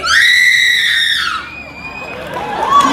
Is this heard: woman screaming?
yes